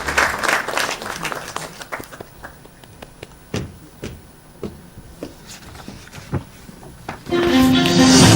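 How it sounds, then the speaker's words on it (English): Audience applause at an educational film festival award ceremony, a burst of clapping at the start that thins to scattered claps, then swells again near the end, fairly loud and close in a hall. "A big round of applause, please."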